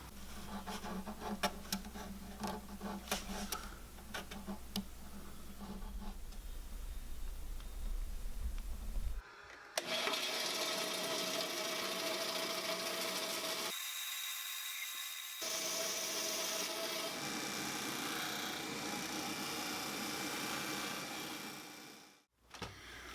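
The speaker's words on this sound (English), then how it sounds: "I'm just going to use a sanding disc." A steady abrasive hiss of a sanding disc on an ebony guitar fretboard, close and continuous, pausing briefly midway before resuming, with a few light taps at the start.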